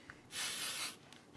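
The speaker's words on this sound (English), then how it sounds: "really what I'm going to do is just give it a good spray" A single short hiss of aerosol gun oil sprayed onto a .38 Special snub-nose revolver, about half a second long, close and clear against quiet background.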